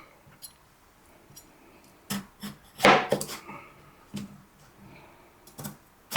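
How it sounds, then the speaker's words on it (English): Knife cutting raw potatoes on a cutting board, with a scatter of sharp chops and taps, one louder burst of cutting near the middle, and irregular gaps between strokes. "I'm going to cut my potatoes. I think I'm going to use this knife right here"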